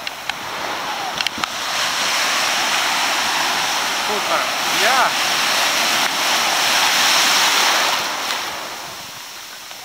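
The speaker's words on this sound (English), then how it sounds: "The waves are strong" Strong ocean surf with riptides rushing and crashing continuously nearby at Kuta Beach, Bali, swelling and easing over several seconds, with a brief voice and a few light knocks.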